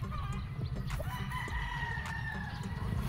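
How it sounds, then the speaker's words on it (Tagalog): A street-breed Golden Boy gamefowl rooster on a game farm crows once at a distance, a faint drawn-out call over a low background hum. "Gandang manok."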